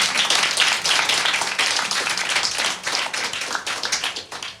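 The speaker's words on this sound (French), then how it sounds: "Tonnerre d'applaudissements pour lui." An audience claps loudly and steadily at the Bouyah d'Or 2022 event, a dense continuous patter of many hands that fades a little toward the end.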